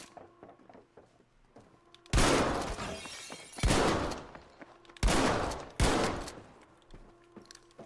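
Gunfire in a video game, shooting at crabs, comes in four loud, sharp bursts, each with a crashing, shattering decay, spaced over several seconds with quiet gaps between.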